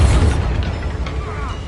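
A Bombarda spell blast in Hogwarts Legacy, a deep, loud boom at the outset fading into a rumbling tail with faint crackles, close and heavy.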